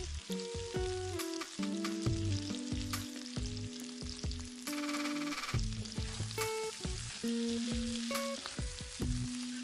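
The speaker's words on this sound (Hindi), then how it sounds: "अब इनको भी फ्राई कर लेते हैं।" Tri-colour sweet snacks frying in oil on a low flame, a continuous close bubbling sizzle heard beneath steady background music, with no voices.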